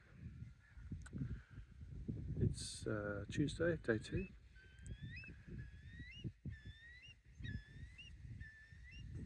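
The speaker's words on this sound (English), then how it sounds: "Birds are singing, calling." Faint birds give short, repeated whistled calls outdoors on the Isle of Skye in April while someone talks nearby.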